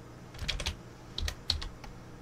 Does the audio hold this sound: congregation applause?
no